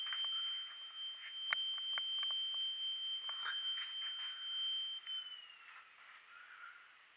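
A shadow detector kit triggered by breaking a laser beam sounds a steady high electronic tone, with brief clicks and shifting pitch over a quiet background, before the tone falls away.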